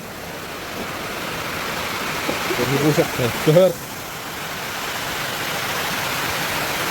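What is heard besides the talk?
heavy rain falling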